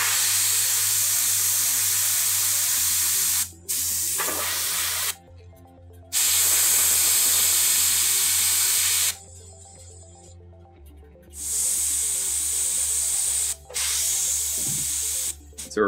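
Spray paint hisses from a can onto miniature armor and a glove during model painting: several long, steady bursts of close, loud spraying, separated by short pauses.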